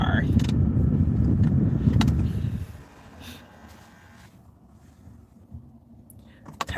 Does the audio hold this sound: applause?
no